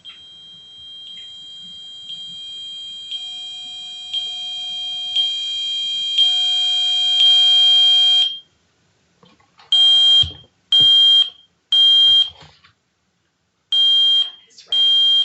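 A smoke alarm's high-pitched test tone rises steadily louder for several seconds, then breaks into a series of loud, sharp beeps, heard alone without talk.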